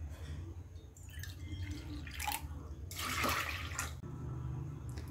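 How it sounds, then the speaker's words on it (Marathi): Water is poured into a pressure cooker for dal (lentils), one bowlful, making a short splashing pour that swells to its loudest near the middle over a steady low background hum, with no voices. "तर आपण पाणी घालणार आहोत 1 वाटी"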